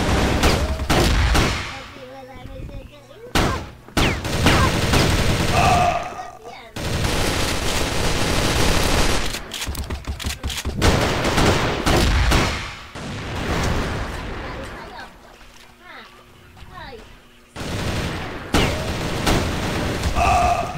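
Gunfire in the video game Crossfire, rapid bursts of automatic weapon fire and heavy booms in loud, close volleys separated by brief pauses, with a player talking at times over the shooting.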